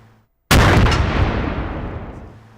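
A .50 caliber rifle fires a single shot after a short silence: a huge, close, sudden blast that rolls into a long, slowly fading roar of echo.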